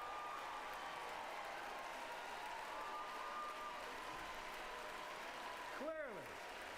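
A steady wash of audience applause fills a large hall at the State of the Union, sustained and distant throughout, with a brief swooping tone near the end.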